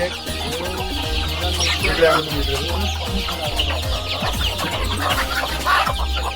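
Native desi hens cluck repeatedly in a busy poultry coop, overlapping calls rising and falling at close range with steady low background noise.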